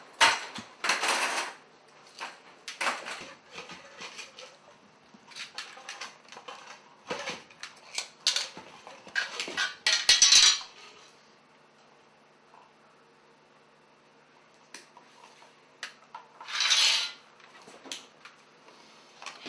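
Sheet metal snipped with hand snips while making a transition: a series of sharp, bright crunching cuts in short bursts, separated by quiet pauses and small clicks and rattles.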